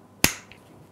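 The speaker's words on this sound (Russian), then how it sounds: "Закрываем ремень в замок." A child car seat harness buckle for a group 0+ infant seat clicks shut once, a single sharp close snap that fades quickly.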